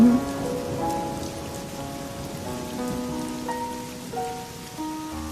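Steady rain patters on a surface, continuous and soft, with faint tonal music drifting underneath and no voices.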